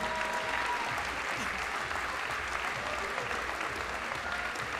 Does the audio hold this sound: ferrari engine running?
no